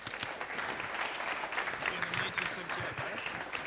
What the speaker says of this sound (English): very big round of applause, please